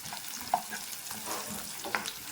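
Green chillies frying in a pan while cooking mutton cashew fry, giving a soft, steady sizzle with a few small pops and spatters, fairly quiet and close, with no talk.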